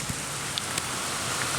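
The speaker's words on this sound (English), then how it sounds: "It is raining right now, and that sucks." A heavy rain downpour hisses steadily and close, a dense even wash of falling water with a few faint drips and taps, no voices.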